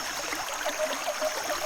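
A rainforest creek runs steadily, a soft continuous trickle and wash of flowing water heard close by, with no voices.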